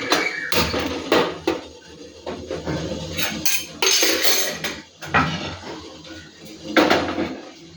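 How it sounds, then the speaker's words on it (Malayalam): A series of close clanks and scrapes of cookware, ending with a lid set down on a clay pot heating on the stove for prawn roast, several separate knocks with short pauses. "അപ്പോൾ ഞാൻ ചട്ടിയടപ്പേ വെക്കുവാണ്"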